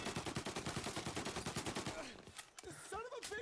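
Rapid automatic gunfire rattles in steady bursts during a shootout at a hangar in Mafia: Definitive Edition, loud and continuous before breaking into scattered shots, with voices shouting underneath.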